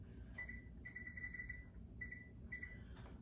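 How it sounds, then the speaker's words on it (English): An oven's control panel beeps as it is switched on, several short electronic tones with one long held beep among them, close and clear over a quiet kitchen background. "I'm going to go ahead and turn my oven on as well here."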